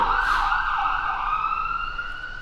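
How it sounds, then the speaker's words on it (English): An ambulance siren wails steadily as it passes by, loud and continuous, its pitch sliding and easing as it moves along. "Another ambulance."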